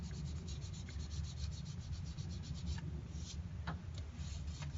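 Hand sanding scuffs a dry spot on a wood finish with 400 grit sandpaper, producing a soft, quiet, steady rubbing hiss with a few faint scratchy strokes, alone with no talk.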